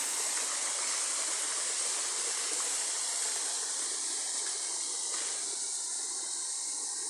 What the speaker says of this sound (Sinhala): මෙතන කරුවල ඇල්ල කියලා කියන්නේ